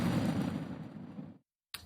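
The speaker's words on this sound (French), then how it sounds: "100 feux d'artifice ont été tirés dans le ciel nocturne" Fireworks burst in the night sky over Tiananmen Square during a national celebration, a loud broad rumbling blast that fades to silence before another sharp report cuts in at the end.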